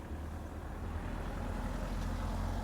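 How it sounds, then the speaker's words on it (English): A car passing on a road behind the listener, a faint, steady low rumble of tyres and engine held at a distance for a few seconds, with no voices. "Oh, there goes a car."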